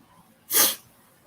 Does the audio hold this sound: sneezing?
yes